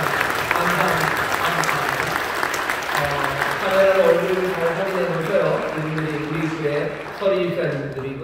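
A church congregation applauds newly appointed deacons at a Korean appointment service, with dense clapping that fades as organ or keyboard music and a voice come in over it.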